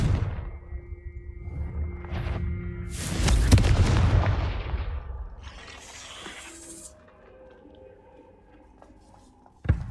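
A Confringo explosive spell goes off in Hogwarts Legacy, a heavy booming blast with a rushing roar that swells over a couple of seconds and then decays, followed by scattered crackling debris and a sharp hit at the very end.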